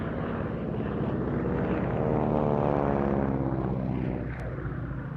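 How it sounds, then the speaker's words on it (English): A Bellanca Executive single-engine monoplane with a Pratt & Whitney Wasp radial roars past at an air show, a loud, sustained propeller drone that swells and then eases slightly as it passes, with no talking. "The Executive, the second of the 2 aircraft about to fly past again"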